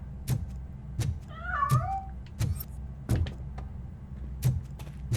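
A cat meows once amid a stretch of sharp repeated knocks and clatters in a RoboCop: Rogue City game scene, with steady low background hum.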